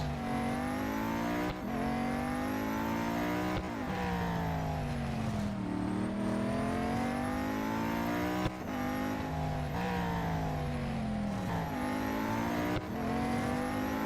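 Race cars in the mobile game Real Racing 3, engines revving and shifting through gears in repeated rising whines, with sharp cuts at each gear change across a long continuous run and no talk.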